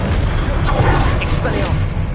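In Hogwarts Legacy, a Confringo blasting spell explodes with a loud, dense burst of rumbling booms and crashes, with voices mixed in among the blasts.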